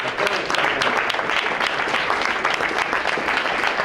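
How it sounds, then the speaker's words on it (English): An audience at a school board meeting claps in a steady, even round of applause, moderately close and continuous throughout. "let's have a round of applause for Ellen Maurer"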